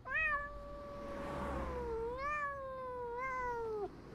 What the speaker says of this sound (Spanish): ¿Todo este mal rollo por las arcadas de un sucio gato?